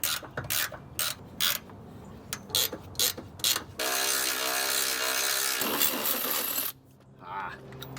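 Wrench working a shock absorber's top bolt loose on a manual Duramax truck during a suspension swap, a run of sharp ratcheting clicks in bursts, then a steady close mechanical rattle and a quieter tail.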